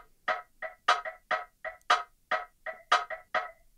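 Dry rim shot sample in a chill house beat with its delay stripped away, about a dozen short sharp clicks in a quick syncopated pattern, fairly quiet and alone.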